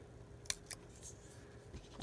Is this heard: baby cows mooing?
no